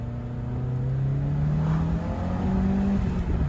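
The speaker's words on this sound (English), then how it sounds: "The car is pulling beautifully now. Boy, howdy, does this thing just move." A hot hatch weighing about 1,500 kilograms, with 263 horsepower and 280 pound-feet of torque, accelerates hard. Its engine drones loudly and steadily climbs in pitch from up close, with no talking.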